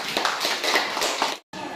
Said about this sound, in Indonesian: tepuk tangan untuk kelompok James Watt